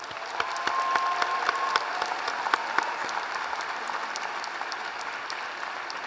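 Applause for newly conferred doctoral graduates at a university commencement ceremony, a steady even wash of many hands clapping from a large crowd, moderately distant and continuous throughout.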